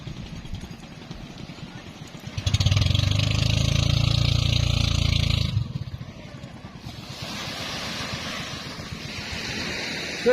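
Outrigger boat engines run at a beach used for island hopping in Pundakit, San Antonio, Zambales. A loud motor rumble surges for about three seconds, then drops to a steadier drone over surf and ambient noise.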